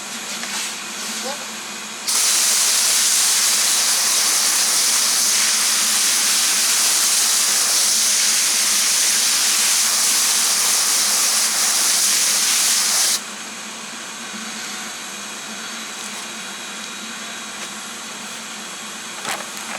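A steady, loud hiss of pressurised water spray runs for about eleven seconds while a car is washed off, starting and stopping abruptly against quieter background noise.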